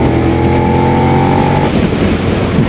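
A Suzuki SV650 motorcycle engine runs loud and close with a sustained revving drone that holds steady, then drops back toward a rougher idle-like rumble.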